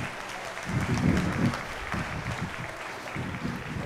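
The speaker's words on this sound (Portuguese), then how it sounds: "Uma salva de palmas aos nossos astros." Audience clapping for performers after a comic hypnosis show, steady moderate applause that swells briefly and then settles.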